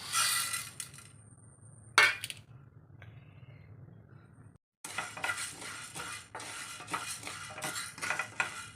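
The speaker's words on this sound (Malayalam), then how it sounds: "ഇനി നമുക്ക് ഉഴുന്ന് വറുത്തെടുക്കാം." Urad dal roasting in a pan for sambar powder, stirred with a utensil: light clinks and taps at first, then a run of close, gritty scraping strokes after a short pause.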